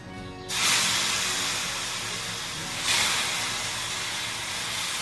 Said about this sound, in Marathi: आता हे बोंबील मी तयावर टाकते